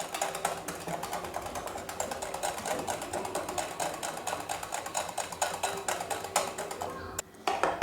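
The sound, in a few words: electric beater beating cream for fruit chaat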